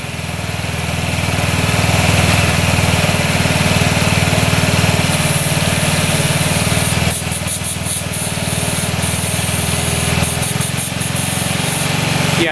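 A scooter engine, just fitted with a new carburetor and intake boot, revs loudly and steadily close by, a buzzing high-pitched drone that holds out fully, then dips and surges back a few times near the end.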